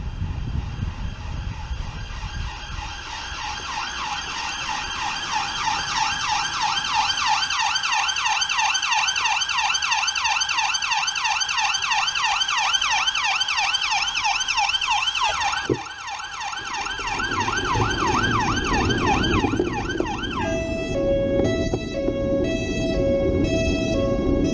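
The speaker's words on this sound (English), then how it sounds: "Testing your sirens, what the hell?" Police car sirens are tested nearby, cycling loudly through a rising-and-falling wail before switching to a faster yelping pattern near the end, under a low engine rumble.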